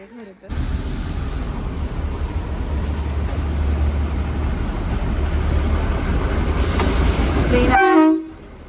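Matheran toy train runs close by with a steady loud rumble and rattle of wheels on the narrow-gauge track, its horn sounding near the end before the noise cuts off.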